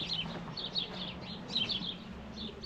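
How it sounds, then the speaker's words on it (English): Birds chirp in short, bright bursts around the roadside metal sculptures of North Dakota's Enchanted Highway, repeated tweets over a soft outdoor background hum, fairly faint and a little distant. "The birds love this one, they're all up there happy."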